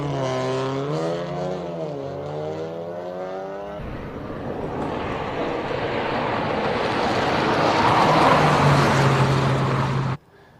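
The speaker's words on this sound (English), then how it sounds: "For a 3-cylinder motor, not bad at all." A three-cylinder Toyota GR race car at a hillclimb revs up through rising gear pulls, then roars loudly past at full throttle with a broad engine and exhaust wash before cutting off abruptly at the end.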